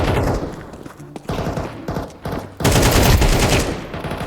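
Rapid bursts of automatic gunfire from the video game Counter-Strike 2, loud and close, with sporadic shots early on and then a sustained, dense volley in the second half.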